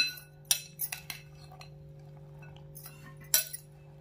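A spoon stirs chopped fruit and pomegranate seeds in a bowl for a fruit salad, making a few sharp clinks against the bowl with quiet stretches between them and a faint steady hum underneath.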